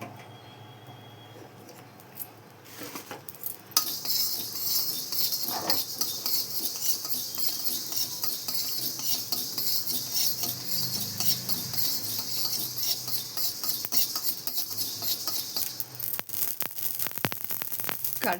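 Mustard seeds popping in plain hot oil in a pan, a dense crackling sizzle that starts after a few quiet seconds and keeps spluttering steadily and fairly close.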